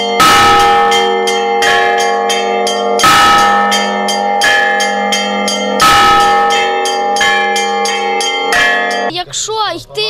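Church bells ring at a bell ringers' festival in Lutsk, loud and close, with repeated clanging strikes and long ringing tones, then brief voices near the end.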